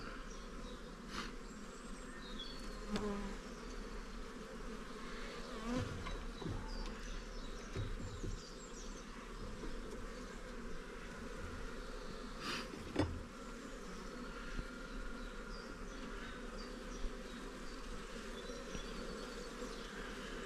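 Honeybees in an open hive with brood and a queen make a steady, dense buzzing drone throughout, with occasional louder passes close by and no talk.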